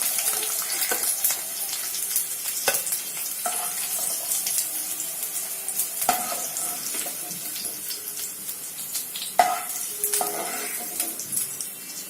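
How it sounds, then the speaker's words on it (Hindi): Cauliflower florets frying in hot oil, a steady bright crackle and hiss with scattered sharper pops, close and continuous for the whole stretch without talk. "आप देख सकते हो हमारा फ्लावर अच्छी तरह से फ्राई हो चुका है।"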